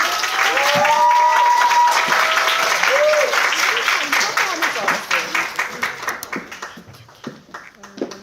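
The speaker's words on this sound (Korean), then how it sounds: "큰 박수로 모셔보도록 하겠습니다" An audience bursts into loud applause welcoming a presenter at a Korean talk, a dense wash of clapping that gradually thins into scattered individual claps toward the end.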